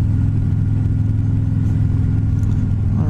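A 2020 Harley-Davidson Street Glide Special FLHXS motorcycle on a back road gives a loud, steady low engine rumble with the throttle twisted, droning close and continuous with no talk.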